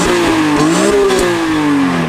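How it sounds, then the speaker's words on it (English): A drift car engine revving loudly up close, with strong intake induction noise rising and falling in a sustained, throaty pull. "Yeah, you can legit hear the intake."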